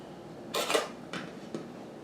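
Diced tomatoes being scooped from a big bowl with an 8-cup measuring cup, a few faint clinks and scrapes of the cup against the bowl in a quiet kitchen.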